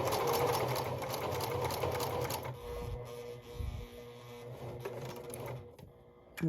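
Sewing machine back stitching a slipper seam, a close, steady mechanical whir of stitching that cuts off partway through, followed by quieter clicks and handling noise.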